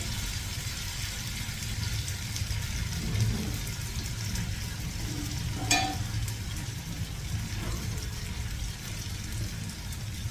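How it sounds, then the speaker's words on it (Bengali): Potatoes crackle as they fry in oil alongside cauliflower, a soft, steady sizzle under a low background rumble, with a single sharp clink of utensil midway; no voices. "ভাজা হয়ে গেছে আলুগুলি একটু শক্ত হয়েছে আলুগুলি ভাজা হয়ে গেছে"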